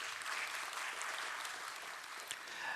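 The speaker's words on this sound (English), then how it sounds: "Nice big round of applause, ladies and gentlemen." Applause from an audience at a stock exchange listing ceremony for Quick Heal Technologies Limited, a dense, steady clapping that fills the whole moment at a moderate, even level.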